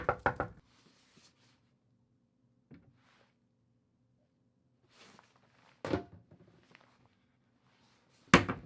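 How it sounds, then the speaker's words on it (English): A few sharp knocks at the start, then quiet with faint faraway sounds, a couple of thuds, and another loud knock near the end. "I knocked on Supply Guy's door"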